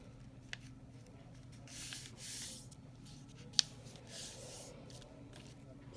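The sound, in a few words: paper being folded into a shutter fold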